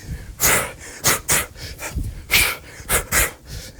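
Heavy rhythmic breathing during bodyweight squats at home, loud close exhales and inhales in a steady pattern of sharp bursts and short pauses.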